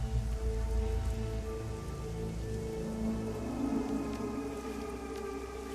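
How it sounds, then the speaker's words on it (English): Steady rain falls throughout in the video game Shadowrun: Hong Kong, a dense continuous patter with a low tonal hum and faint musical tones beneath, no talking. "It's always raining."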